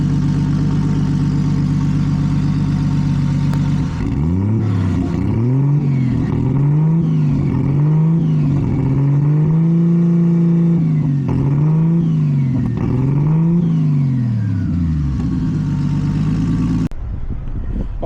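A Kenworth truck engine runs steadily for the whole stretch during a Thermocure cooling system treatment. It is loud and close, with a constant drone and tones that rise and fall, and no one talks.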